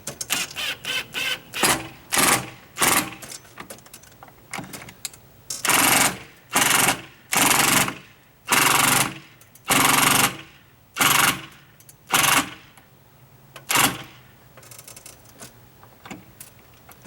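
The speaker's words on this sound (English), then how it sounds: "The beauty of the impact drill." An impact drill drives a screw into a stucco wall while a flagpole bracket is mounted, giving loud repeated ratcheting bursts about a second apart, each a dense hammering rattle separated by short pauses.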